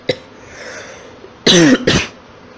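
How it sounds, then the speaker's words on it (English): A sharp single cough is followed after a pause by two harsh, close coughs in quick succession, with no talking. "I just seem to have a very bad cough"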